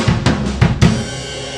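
Drum kit playing a linear fill with a left-hand accent on the "of" of beat one: four quick sharp hits at roughly even spacing, each ringing with cymbal wash, the last one sustaining and fading alone.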